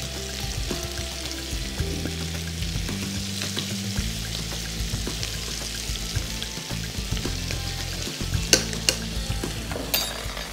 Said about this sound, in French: On va remuer tout ça